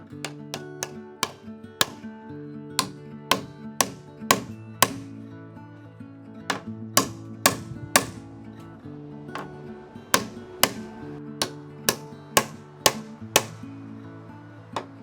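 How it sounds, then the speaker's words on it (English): Wooden wedges are hammered into the girder supports of a timber woodshed, producing a steady series of sharp, close knocks in irregular bursts, about two dozen in all, over soft background music. "On top, I wedge the girder supports to secure them firmly"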